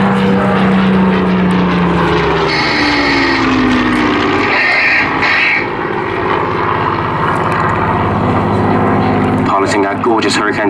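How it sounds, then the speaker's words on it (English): A Battle of Britain Memorial Flight Hawker Hurricane flies a display at Southport Airshow, its propeller engine droning loud and steady under an announcer's commentary. "Piloting our gorgeous Hurricane today is Squadron Leader Mark Sugden"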